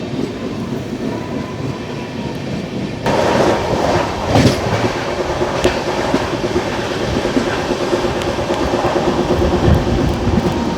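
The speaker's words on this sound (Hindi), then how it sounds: "देखिए भाई, यहाँ से ही भाई स्पीड पकड़ ली है इस ट्रेन ने।" Okha Nathdwara Express 19575 picking up speed after leaving Nadiad, heard from on board: loud steady rumble with rhythmic clickety-clack of wheels over rail joints, swelling louder after a few seconds.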